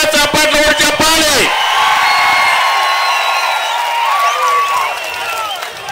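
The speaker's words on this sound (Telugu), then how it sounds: "చేస్తామని గట్టిగా చప్పట్లు కూడా చెప్పాలి." Crowd at a political rally applauding and cheering loudly at first, clapping fading out after a second or so, with someone speaking over the crowd through a loudspeaker before and after.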